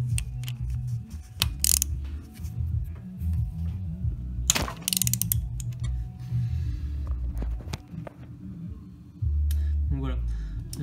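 Ratchet wrench cracking bolts loose on a BMW, close and loud, with uneven clicking mechanical bursts and short sharp breaks over a low hum, a voice briefly speaking.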